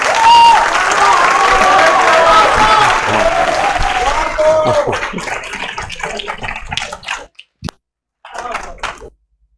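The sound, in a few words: audience applause for the speaker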